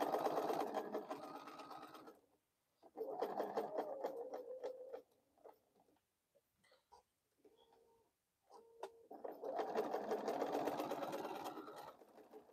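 A home sewing machine stitching fabric bowl cozies runs in long steady bursts, pausing quietly between seams before whirring on again, fairly close with no talking.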